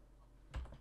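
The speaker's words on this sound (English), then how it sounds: "I can't type. I forgot how to use the keyboard." Quick keystrokes on a computer keyboard while Java code is typed, a short cluster of faint clicks rising from quiet room tone in the second half.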